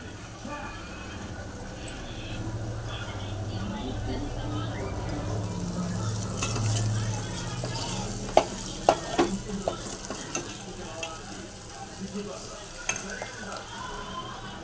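Biryani gravy simmering in oil in a pan, stirred with a utensil, giving a steady close sizzle and frying hiss with scraping stir strokes and a few sharp clinks against the pot, under voices.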